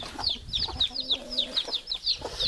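Rooster and hen on a permaculture vegetable-garden plot after the rooster tried to mount a hen with chicks, giving a rapid run of sharp, agitated clucks repeating close by over a low background.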